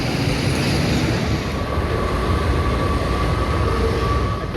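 A Washington DC Metro subway train rumbles loud and close during Monday rush hour, a dense steady roar with a thin high whine running through it, with no voices.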